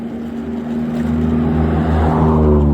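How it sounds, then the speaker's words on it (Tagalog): A car drives past on a road in Japan, its engine hum and tire roar building steadily and growing louder over a few seconds as it approaches close by. "Ganda ng kotse."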